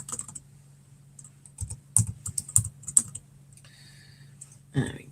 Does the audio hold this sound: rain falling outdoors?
no